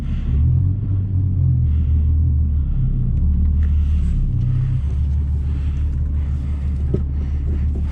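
A Volkswagen MK4 Jetta VR6 idling at a drive-thru, its low, steady engine rumble continuous and close, with slight shifts in tone and no talking.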